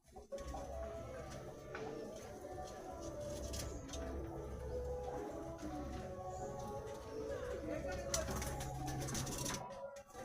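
A mated pair of Giribaz pigeons gives faint, low cooing that hums steadily in the background, with light rustling and handling noise nearby.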